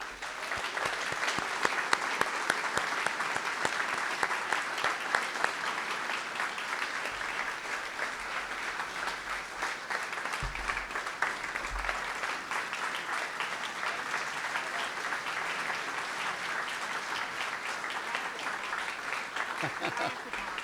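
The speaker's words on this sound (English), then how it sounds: "Please give a big round of applause now" At a Hiawatha State of the City gathering, an audience applauds an award winner with sustained, fairly distant clapping that carries evenly throughout, with scattered voices mixed in.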